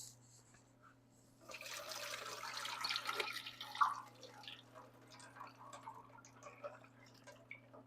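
Water pouring off soaked ingredients in a kitchen sink as they are drained, a few seconds of splashing flow that tapers into scattered drips over a steady background hum.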